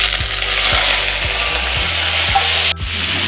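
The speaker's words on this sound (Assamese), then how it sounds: "এতিয়া আমি মাংসটো অলপ সময় ভাজি ল'ব লাগিব।" Chicken pieces fry in hot oil in a kadai, giving a steady, loud hiss with faint clicks of a spoon against the pan, and no voices.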